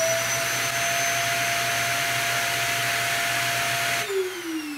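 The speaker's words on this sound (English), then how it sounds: "Here's the sound of the central vacuum running." A central vacuum system fitted with a HEPA filter runs at a steady, loud roar with a constant whine, then cuts off near the end as the motor spins down with a falling tone.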